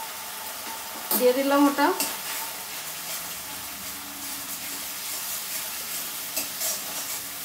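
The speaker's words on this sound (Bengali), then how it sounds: "মশলাটা আর একটু ভালো করে ভেজে নেব।" Ground turmeric, cumin and coriander frying in a pan for a fish curry, giving a steady soft sizzle with stirring scrapes and a short clatter, while someone speaks briefly near the start.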